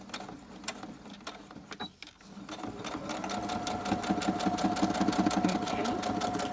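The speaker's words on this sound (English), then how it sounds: "So I'll just stitch those." Sewing machine stitching book pages together for a junk journal, running in a fast, steady, close rhythmic chatter after a brief pause, with a faint rattle from a shaky table.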